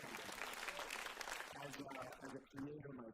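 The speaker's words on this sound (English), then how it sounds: "Please, I'm going to make you clap for that" Audience applause at the Shared Futures 2026 event: a dense burst of clapping from a crowd for about a second and a half, then a speaker talks while the clapping thins and fades beneath the voice.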